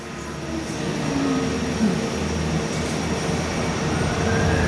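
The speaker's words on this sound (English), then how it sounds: "737-800 departing Perth" A Qantas Boeing 737-800 jet departs Perth, its engines producing a steady, broad roar that builds gradually, heard from indoors at a distance.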